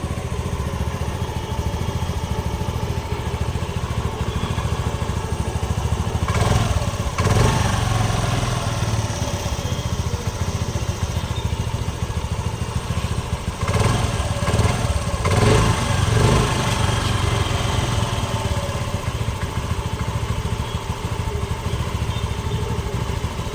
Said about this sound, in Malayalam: വണ്ടി ഒറ്റയടിക്ക് സ്റ്റാർട്ടാണ് എൻജിൻ്റെ സൗണ്ടൊക്കെ നല്ല സ്മൂത്ത് സൗണ്ടാണ്